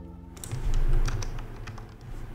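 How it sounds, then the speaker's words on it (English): Typing on a computer keyboard: a run of quick, close, fairly loud key clicks in an irregular rhythm over a low room hum, no speech. "If I can get this typed out."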